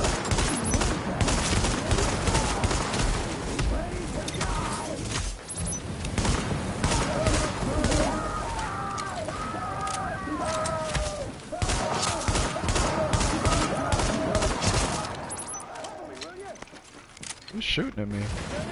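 Sustained gunfire in The Division, a third-person shooter, with rapid bursts and scattered shots rattling nearly nonstop over a dense, loud battle soundscape for most of the stretch, briefly easing before the end.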